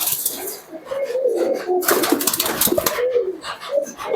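Giribaz pigeons coo near and clear in a series of soft, throaty, rolling calls that overlap one another, with no voices.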